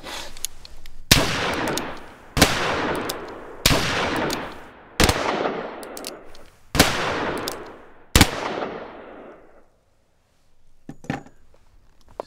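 Six loud, evenly spaced gunshots ring out one after another, each with a long reverberant tail that suggests open ground, followed by quieter rustling and a couple of faint knocks.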